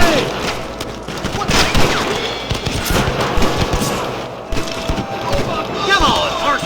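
Gunfight in the Red Dead Redemption western game, with overlapping shots and cracks firing in irregular bursts, loud and dense, while voices shout over the shooting.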